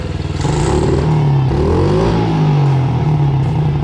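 A pit bike engine idles steadily after a fix-up, a loud, close, chugging putter with a slight uneven lope and mechanical clatter running throughout, no voices.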